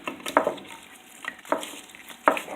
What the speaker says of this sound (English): All the vegetables turned around and get them well coated in oil